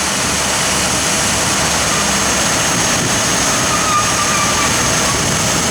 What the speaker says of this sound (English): That's a truck behind us making that noise.